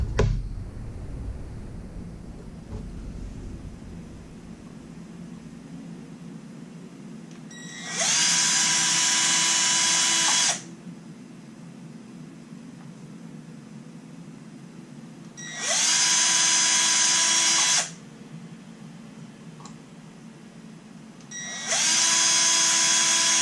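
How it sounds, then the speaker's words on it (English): A power drill bores holes in bolts while a control box is being prepared, running in three loud, steady bursts of about two to three seconds each, separated by quiet pauses with no talking. "I'm going to go drill them."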